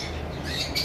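A cockatiel at a bird shop gives a short, harsh squawk, faint over the background hum of the shop.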